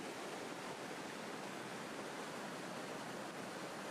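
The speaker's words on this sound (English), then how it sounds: "There's quite a bit of water coming out though still" Water flows steadily out of a culvert at a junction of tracks, making a constant broad rushing hiss with no breaks or spoken voices.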